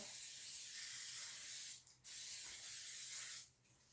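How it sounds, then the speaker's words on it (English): Two long, steady hissing bursts from an aerosol can of cooking spray, close by, separated by a brief pause. "I'm going to spray it with some cooking spray"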